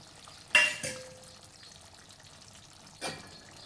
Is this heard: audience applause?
no